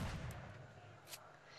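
Gunfire in the shooter game S.T.A.L.K.E.R. Shadow of Chernobyl, played with a mod: a faint burst of shots at the start, then a sharper single report about a second later, distant and quiet.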